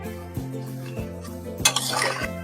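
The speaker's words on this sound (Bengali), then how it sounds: "নেড়ে চেড়ে নামিয়ে নেব।" A spoon stirring chicken and potato curry in a metal pot, with rhythmic scraping strokes about every half second and a brighter clatter near the end. No voices.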